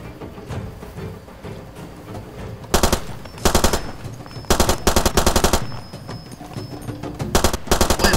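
Automatic gunfire in Far Cry 2, with loud rapid bursts of shots separated by brief pauses and quieter background game noise in between.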